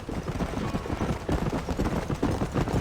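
Horse hooves clip-clop in Red Dead Redemption, a steady rhythmic trot of soft, muffled thuds that continues evenly throughout at a moderate, close distance.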